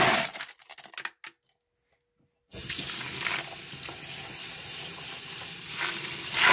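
Coarse-grit tumbled Huckleberry garnet stones are washed in a small tub in a sink. A few handling knocks come first, then a brief silence, and then a loud, steady rush of running water continues to the end.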